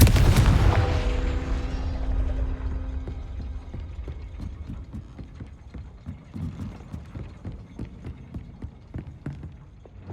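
A Confringo fire spell going off in the video game Hogwarts Legacy: a heavy opening boom rolls off, followed by a string of quick, lighter thumping impacts.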